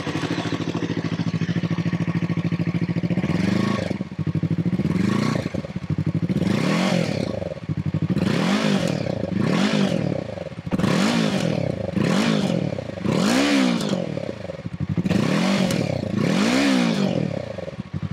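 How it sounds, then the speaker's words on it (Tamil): A 2023 Yamaha R3 motorcycle revving repeatedly, its exhaust note climbing and falling in about a dozen close, loud throttle blips on a track, with no talking. "யமஹா R3-ஓட எக்ஸாஸ்ட் நோட் எப்படி இருக்குன்னு"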